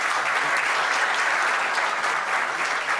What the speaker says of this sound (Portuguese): a salva de palmas para os nossos professores.